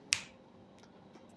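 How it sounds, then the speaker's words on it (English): A single sharp finger snap rings out near the start, crisp and close, then fades into quiet room tone with faint rustles. "all you need to do is to maybe snap your fingers"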